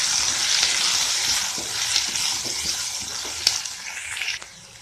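Garlic and onion sauté in hot oil for a chutney, a steady hissing sizzle with occasional stirring scrapes and clicks, close and moderately loud, no voices.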